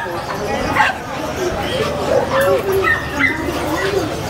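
A Pomeranian of the fox type barks and yips in a busy pet market, with people talking over the crowd noise.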